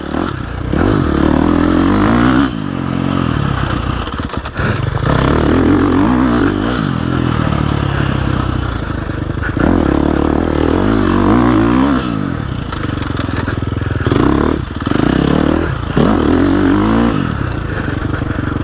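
Dirt bike ridden over rough, rocky ground, its engine loudly revving and dropping in repeated bursts with clattering and scraping as it bounces along, close and continuous with no talk.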